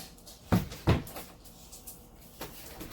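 Two sharp wooden-sounding knocks close together, like a door being opened to let dogs out, followed by quiet room noise and a fainter third bump.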